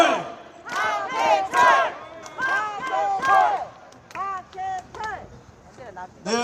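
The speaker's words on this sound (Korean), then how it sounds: "함께한 여러분 환호해 주시기 바랍니다" A crowd at an outdoor election campaign rally at a city intersection in Ansan, South Korea, shouts and chants in loud, rhythmic bursts of many voices, rising and falling in repeated waves with brief gaps between.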